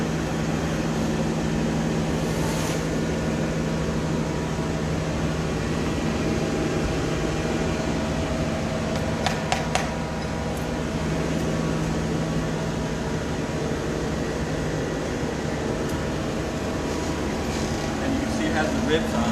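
A glass furnace roars steadily while a blown glass piece is reheated, a loud continuous hum and rush of burning gas lasting throughout, with faint clinks now and then and a speaking voice under it.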